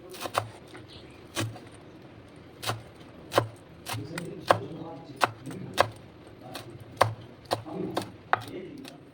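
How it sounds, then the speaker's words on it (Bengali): Fresh coriander leaves are chopped coarsely with a knife on a board, producing a run of sharp, close, irregular taps that quicken in the middle, with faint background sounds between strokes. "এখন এগুলোকে একটু বড় বড় করে কুচিয়ে নিচ্ছি"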